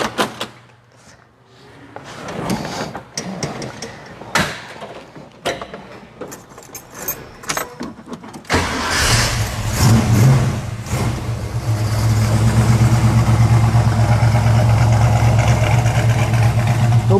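A car with a freshly rebuilt engine is started after some handling and clicks, then revs loudly and settles into a steady, close, throbbing run that fills the rest of the recording.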